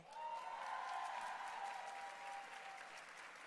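A conference gala audience applauds steadily, dense clapping that holds strong throughout before easing slightly near the end, with no voices over it.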